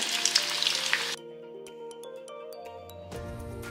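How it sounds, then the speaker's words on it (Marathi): Coriander vadi (kothimbir vadi) pieces sizzle loudly in hot oil for about a second, then the frying cuts off and soft tonal music carries on. "ते आपल्याला तेलामध्ये छान तळून घ्यायच्या आहेत"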